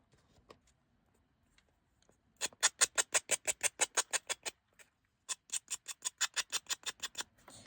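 Edges of painted wooden tag charms are sanded by hand in two bursts of quick, even back-and-forth strokes. The scratchy rasping is close and clear, with a short pause between the bursts and no voices.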